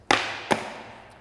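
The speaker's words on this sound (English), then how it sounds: "you're going to hit the tail to the ground" A skateboard tail cracks against the ground twice, a sharp pop followed by a second, softer snap about half a second later, both close and dry.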